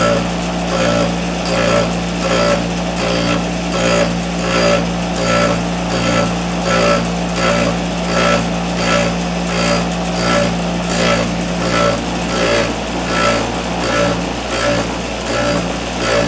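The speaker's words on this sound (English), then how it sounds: "turn a bench grinder on, and grind half of the top plate off." A bench grinder grinding the top plate off chain tie straps, a loud steady motor whine with a rhythmic pulsing texture as metal meets the wheel, running continuously without talk.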